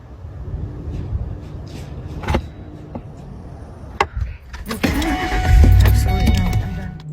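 A car starts up and pulls away after a few clicks and clunks, its engine swelling loud and close toward the end, with a voice talking over it.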